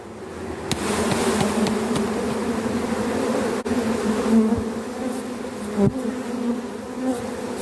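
Dense, steady buzzing of many honey bees fills the air close by, a continuous hum with occasional light knocks.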